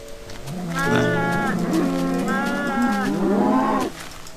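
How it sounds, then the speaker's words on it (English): Cows in the Minecraft video game moo repeatedly in long, overlapping, drawn-out calls, loud and continuous from start to finish, with no talking over them. "Okay, I have a lot of cows."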